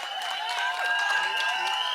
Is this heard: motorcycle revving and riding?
no